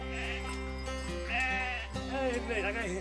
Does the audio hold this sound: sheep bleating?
yes